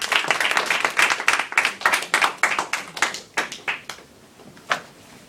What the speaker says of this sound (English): Let's all give him a rousing and supporting applause